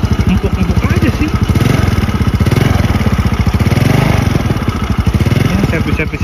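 Yamaha Mio Sporty motorcycle engine idling up close in a rapid, steady putter with a loud, even pulse, while someone talks over it.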